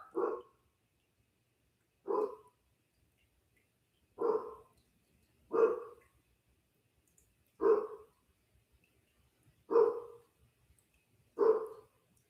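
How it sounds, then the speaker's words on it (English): A single dog barks seven times, evenly spaced about two seconds apart, each bark short and fairly close, with quiet between them. "What are you barking for?"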